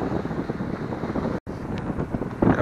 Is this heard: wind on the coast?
yes